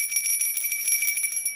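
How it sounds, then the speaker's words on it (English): A single bell, rung by hand, gives a clear high metallic tone that rings on and decays slowly with bright overtones, alone and fairly loud. "I'm going to ring my bell on that."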